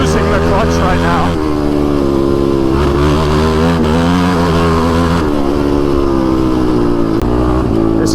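A motorcycle engine runs loud and close with a slipping, abused clutch during an off-road desert race. The revs waver and rise continuously throughout.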